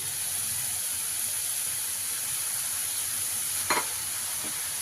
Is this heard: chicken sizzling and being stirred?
yes